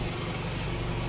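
A car that is nearly roadworthy again idles steadily just after being started, a low, even engine rumble close by with no talk over it.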